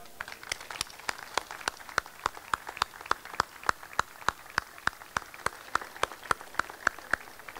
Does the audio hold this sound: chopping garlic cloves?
no